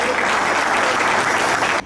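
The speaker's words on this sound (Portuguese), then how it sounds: "Fuerte el aplauso de los presentes" Loud, dense applause from the audience at an agricultural integration forum, continuous clapping that fills the space and cuts off abruptly near the end.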